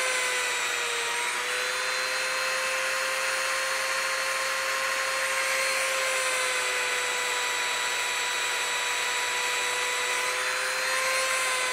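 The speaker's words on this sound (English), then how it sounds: "when I get it inside, man, it practically stalled the Dremel" Dremel rotary tool spinning near a neodymium magnet sphere, a steady high-pitched motor whine with a slight drop in pitch, close and continuous with no talking.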